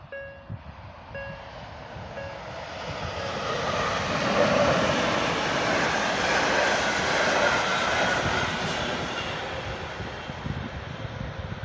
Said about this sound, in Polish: to był przejazd pociągu jak na rzece